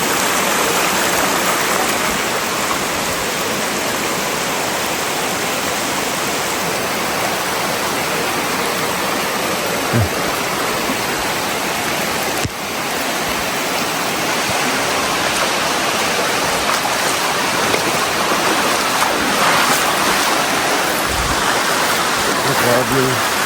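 Heavy rain beside a fast-flowing river, a dense steady broadband roar of water and downpour lasting throughout, with a couple of faint brief knocks in the middle.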